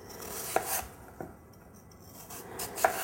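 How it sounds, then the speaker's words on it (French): A knife cuts around an onion into thick slices on a board, giving a few sharp chopping knocks with quiet rubbing between them, close and fairly faint. "on va couper autour de notre oignon en faisant des grosses tranches"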